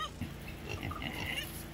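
Faint, brief grunting oinks from pigs nearby at a snowy farm with a downed fence, over low outdoor background noise.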